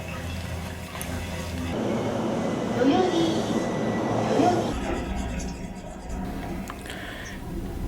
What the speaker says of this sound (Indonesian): Deru roda-roda baja kereta listrik dan suara alat-alat elektronik pencatat tiket perjalanan.